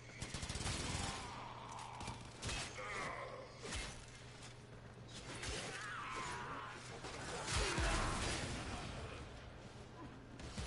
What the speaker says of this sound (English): Damn explosion.